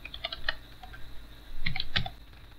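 Keys clatter on a computer keyboard during Django web coding, a few scattered taps then two denser bursts of close, crisp clicks with no talk.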